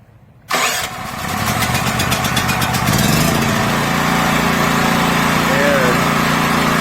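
A WEN 5,600-watt dual fuel portable generator, set on choke and running on gasoline, cranks briefly, then catches and settles into a loud, steady, close-up engine drone.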